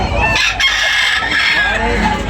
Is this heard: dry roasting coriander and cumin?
no